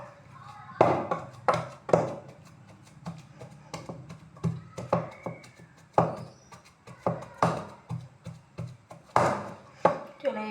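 Cooked lentils being mashed with pumpkin, a series of sharp rhythmic knocks and thuds against a bowl or board, roughly one or two per second, close and fairly loud, with faint speech in places.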